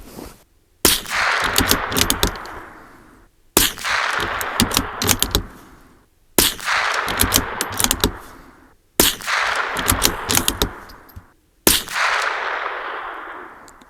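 .22LR rifle with Thunderbolt ammunition fires five sharp, evenly spaced shots at a target 100 yards away. Each crack rings close and loud, followed by a brief rattling decay, with a short silence before the next.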